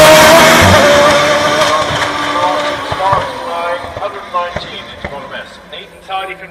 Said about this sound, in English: he's accelerating away now and he's over the line